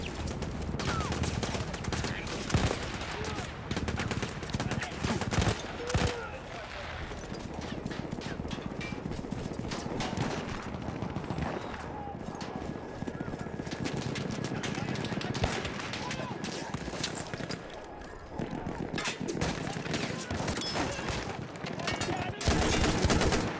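A gun fires in Battlefield 1 amid dense, sustained battle: rapid cracking shots and bursts overlap almost continuously, loud and close, with brief lulls before the shooting picks up again.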